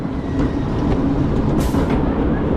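A roller coaster train at an amusement park rumbles steadily past with a dense, roaring low noise and faint clattering, loud and continuous throughout.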